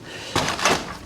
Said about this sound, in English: open up this door